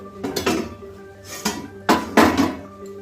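A lid lifted off a cooking pot of starfruit chutney in a village kitchen, with several loud metallic clanks and scrapes of pot and utensil close by, no voices.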